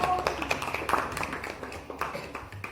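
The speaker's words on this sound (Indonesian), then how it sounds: "Berikan tepuk tangan untuk kelompok 1" A classroom audience claps for a student group after their presentation, a brisk burst of many hands that fades out gradually across the moment.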